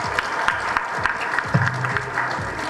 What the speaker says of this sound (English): can you guys please give a round of applause for yourselves for being here tonight